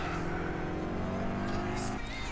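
A Lancia Delta rally car in the racing game Gran Turismo 6, its engine droning steadily and loudly at sustained revs for the whole stretch.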